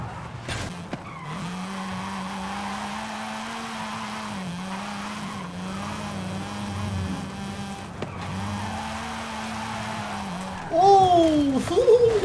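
A modified Mazda RX-7 drifting in the video game Forza Horizon 5, a sustained engine drone with wavering pitch and tire squeal rising sharply near the end, close and continuous.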